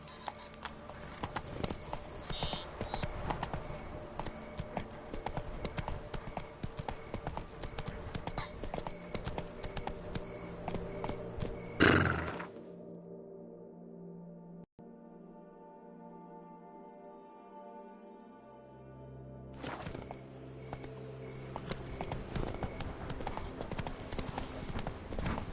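Roach the horse galloping in the Witcher 3 video game, steady rapid hoof clip-clop loud and close, broken by a sudden drop to a quieter hum midway before the galloping returns.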